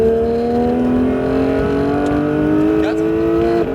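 A Porsche 911 GT3 on the Mireval race circuit powers up under throttle, its engine holding a loud, steady, rising drone close to the microphone for several seconds without a break.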